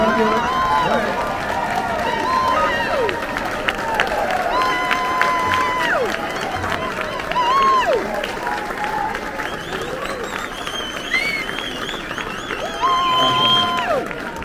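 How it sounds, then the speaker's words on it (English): Applause and cheering from a crowd at an eighth grade promotion ceremony, loud and continuous for the full stretch, with scattered shouts and whistles rising above the clapping. "Let's give them a standing round of applause."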